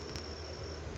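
Crickets chirping in a steady, continuous high trill, close and fairly loud, with no voices.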